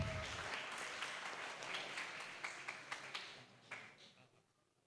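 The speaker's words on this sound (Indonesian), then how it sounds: "tepuk tangan untuk kita semua yang bersemangat" Audience members at an education webinar from a vocational high school clap, a soft, fairly quiet patter of applause with a few louder distinct claps before it dies away.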